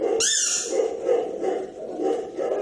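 A squeaky dog toy gives a brief, shrill squeak near the start, followed by dogs shuffling and reacting in the room.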